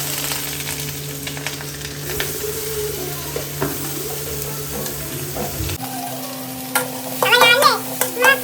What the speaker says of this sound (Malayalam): ബട്ടറും ഗാർലിക്കും ഇട്ടിട്ട് നന്നായി ഇറക്കി നമ്മുടെ അരിഞ്ഞു വെച്ച വെജിറ്റബിൾസ് ഇടാൻ പോവാണ്.